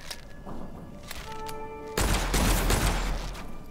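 Pistol fire and combat in the video game Witchfire: thuds and clanking in the first half, then dense, booming gunfire bursts that stay loud to the end.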